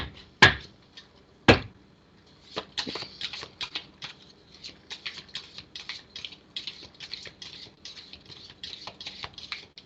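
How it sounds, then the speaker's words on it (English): A deck of cards is shuffled during a card reading: two sharp riffle snaps near the start, then a long run of quick, close papery flicks and ruffles with no talk. "Okay, let's get a shuffle up here."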